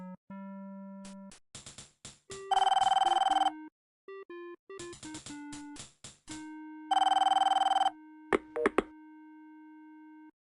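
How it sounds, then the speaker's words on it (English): A telephone ringing in the video game Police Quest 4, heard as synthesized electronic tones in bursts, including two sustained buzzing ring tones among shorter beeps and jingles, loud and close with no voices. "Okay, we gotta answer the phone."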